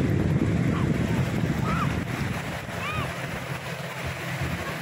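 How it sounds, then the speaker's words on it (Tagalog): Gentle sea waves break on San Fabian Beach, a continuous soft wash of surf mixed with wind buffeting the microphone. A few faint distant calls sound in the background. "Ayan o, alon. Pero yung alon niya hindi naman masyado malakas."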